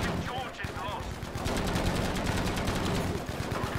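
Rapid bursts of automatic gunfire in the video game Battlefield V, dense and continuous, with some speech faintly underneath.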